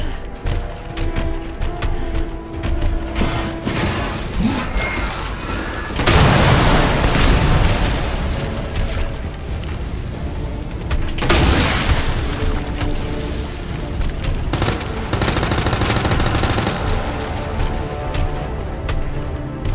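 Loud gunfire and heavy explosions from Resident Evil 2 combat boom and crack repeatedly over a dense, rumbling game soundtrack, with several big blasts standing out.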